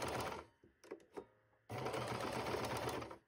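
A sewing machine stitches fabric for a small pouch, its fast rhythmic needle chatter running in two bursts, a short stuttering start and then a steady close run, fairly quiet with no talking.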